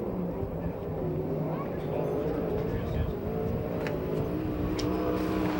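Steady, loud drone of a 410 sprint car engine on a qualifying lap at a USAC/CRA race in Perris, California, rising slightly in pitch as it runs, with an announcer speaking over the engine.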